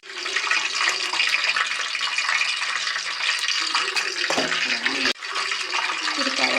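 Mustard seeds and cumin hit hot oil for Karnataka-style bisibelebath, giving a loud, dense, continuous hissing sputter that barely pauses once.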